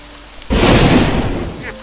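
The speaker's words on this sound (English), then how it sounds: "It's raining." After a quiet moment, a sudden wash of heavy rain with a low rumble of thunder in a video game swells in and holds, loud and close.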